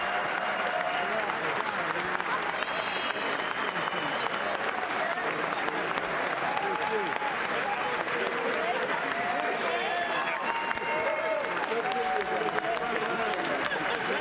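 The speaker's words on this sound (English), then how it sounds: "Crowd goes wild." A large crowd at the State of the Union applauds and cheers steadily and loudly throughout, dense clapping with scattered shouts and voices rising over the roar.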